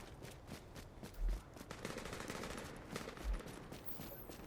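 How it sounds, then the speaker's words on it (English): Gunfire in the video game The Division, a steady distant crackle of automatic weapons with a couple of heavier thuds, faint and with no talk over it. "Okay, I'm hearing gunfire, but I'm not seeing anybody"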